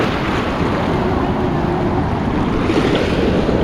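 Loud, constant roar of ocean waves on a beach in Siargao, dense broadband surf wash with wind buffeting the microphone and no voices.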